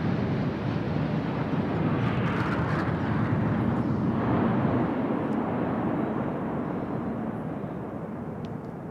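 An Indian Air Force aircraft formation flies past at the Republic Day parade, a broad, steady roar that rises slightly and holds loud throughout, heard from the ground.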